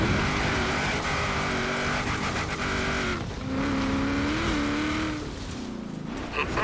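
A Willys MB jeep engine drives in the racing game Forza Horizon 4, a steady droning motor rising and falling in pitch as it shifts and accelerates, loud and close, with possible tire scrubs near the end.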